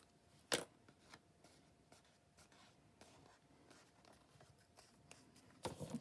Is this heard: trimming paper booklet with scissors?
yes